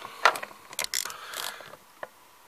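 Socket wrench ratcheting and clinking as a glow plug is worked loose on a Citroën ZX 1.9D diesel engine, a few quiet close clicks and metallic scrapes in short bursts.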